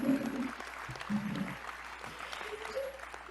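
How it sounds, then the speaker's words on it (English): A church congregation gives brief scattered applause, moderately loud and close, with murmured voices and tones mixed in. "Clap for that."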